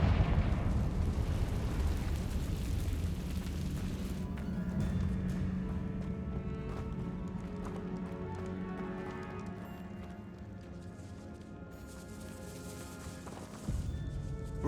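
Fire spell explosion in the Hogwarts Legacy video game inside a decayed catacomb, a loud rumbling burst up front that trails off into a long low crackling decay with game ambience.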